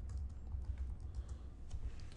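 Steady typing on a computer keyboard, close and continuous rapid key clicks, with no speech.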